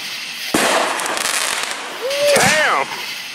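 Fireworks go off outdoors on rural private land in Georgia on the Fourth of July: a sharp blast followed by a sustained loud crackling roar, with voices and whooping mixed in.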